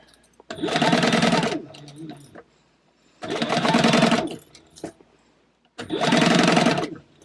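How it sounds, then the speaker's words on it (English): A sewing machine stitches the lining of a trunk-style purse in three loud, steady runs of a couple of seconds each, separated by short quiet pauses with faint handling noise. "we're sewing the lining on"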